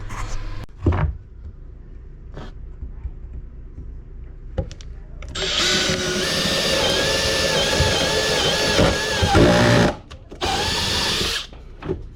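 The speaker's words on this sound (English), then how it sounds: "now we're just gonna drill these holes out and then bolt it up" A power drill whirs steadily for several seconds as it bores holes into the metal of a 2022 RAM ProMaster 159 high-roof van, pausing briefly, then starting again in a shorter burst, close and loud.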